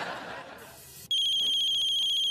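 A phone ringtone starts abruptly after a moment of quiet, a loud, steady electronic tone pattern ringing close by.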